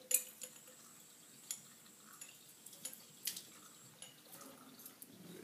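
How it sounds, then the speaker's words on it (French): Water emptied from lab glassware with a wash bottle into a sink, a quiet faint trickle with small scattered clinks and drips, close and low in level with no talk. "Avec le flacon laveur, je vais vider l'eau."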